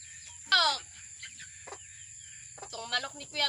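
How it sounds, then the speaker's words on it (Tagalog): A chicken gives several loud, close clucks and squawks with quiet gaps between them, over a faint steady background hum. "Itong manok ni Kuya Dodo ito, pangkatayin ko to"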